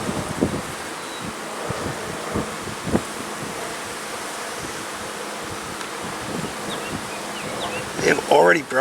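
Honey bees from a newly caught swarm drone in a continuous buzz around an open hive during an inspection, with rustling, frame bumps and wind noise close to the microphone, and a few brief knocks near the end.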